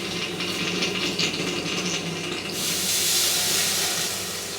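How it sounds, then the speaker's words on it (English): Hot forge-welded Damascus steel quenched in water gives a loud, steady hiss of steam that swells into a bright, broad rush partway through and holds to the end. "Let's just quench that for the crack."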